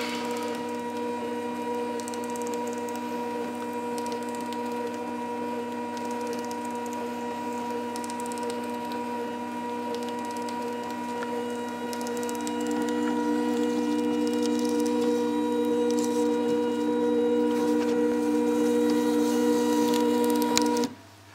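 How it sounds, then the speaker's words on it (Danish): A label printer runs steadily while printing a small gift-box label, a tonal motorized whir that grows louder partway through, then stops abruptly at the end; no speech. "Så printer den simpelthen bare."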